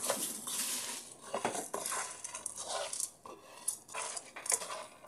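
Textured soy is stirred in a hot frying pan with garlic, the utensil scraping and clattering in steady bursts against the pan over a light sizzle, close and fairly loud, with no talking.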